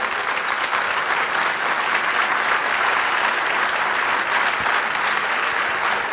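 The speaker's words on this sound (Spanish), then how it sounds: "aplaudan a Dios si quieren." A church congregation applauds loudly during a sermon, a thick, continuous wash of clapping from many hands that stays strong and even from start to finish.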